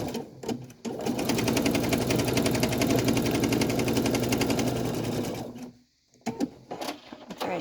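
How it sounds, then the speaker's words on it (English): A sewing machine runs fast and steady while free motion quilting a background line, a loud, close, continuous mechanical chatter of needle strokes lasting several seconds before stopping, with brief handling clicks around it. "I'll just finish this line."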